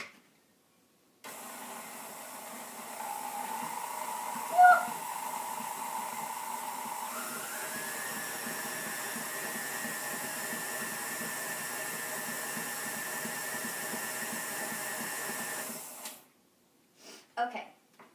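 An electric mixer whips frosting thickened with powdered sugar, running as a steady whir that shifts up in pitch partway through, then cuts off at the end.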